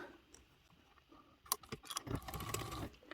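Sewing machine top stitching along the main exterior fabric of a sleeve, a brief quiet start giving way to a louder run of rapid mechanical stitching in the second half.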